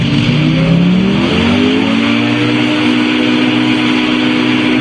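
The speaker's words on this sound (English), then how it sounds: "go ahead and throttle up" Small two-stroke engine on a Challenger II ultralight aircraft throttling up, a steady loud drone that rises in pitch over the first second and then holds a high, even roar with no voices.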